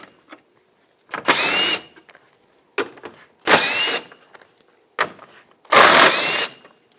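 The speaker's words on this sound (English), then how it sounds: "We're going to take these bolts out from up top," Short bursts of a power ratchet or impact driver backing out headlight bolts with a 10mm socket on a 2014-2018 GMC Sierra, three main whirring pulses of under a second each with small clicks between, close and loud.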